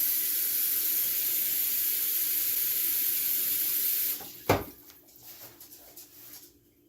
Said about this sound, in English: Running under some hot water.